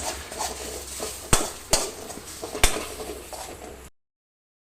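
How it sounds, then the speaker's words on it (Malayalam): Egg being mixed with onion in a pan for kothu chappathi, a spatula scraping and stirring with a few sharp clanks against the pan, close and fairly loud, ending in abrupt silence. "അപ്പോൾ നമ്മൾ മുട്ട ആഡ് ചെയ്ത് കൊടുത്തിട്ടുണ്ട്. ഇത് നമുക്കൊന്ന് മിക്സ് ചെയ്തെടുക്കാം."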